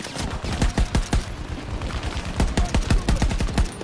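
AK-24 rifle fire in Battlefield 2042, rapid bursts of loud, close automatic shots in two clustered volleys with a short lull between.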